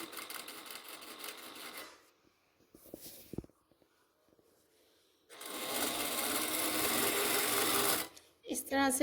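A domestic sewing machine stitches a belt onto a shalwar in two loud, steady runs with a quiet pause and a few handling clicks between them, plus a brief burst at the end.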